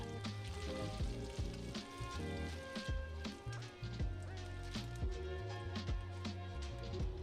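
Fat rendering in a hot pan for fried rice, a steady sizzle running continuously under background music with occasional stirring ticks.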